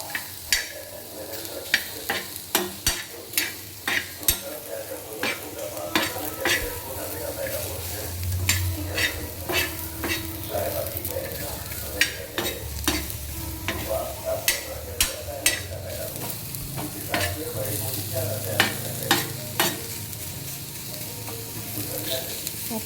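Onion frying in a pan until crisp and red, a steady close sizzle with frequent sharp scrapes and taps of a stirring spoon throughout.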